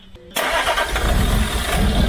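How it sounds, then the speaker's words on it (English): Land Rover Discovery engine under restoration cranks and catches, then settles into a loud, steady running rumble close by. "The engine is running!"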